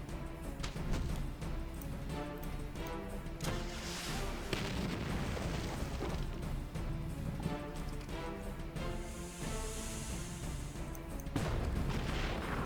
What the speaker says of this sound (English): And then tank cannon, of course.